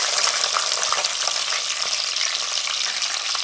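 Chopped small onions hit hot oil with fenugreek in a pan for a Tamil fish curry, giving a steady, dense sizzle and crackle that holds loud and unbroken throughout.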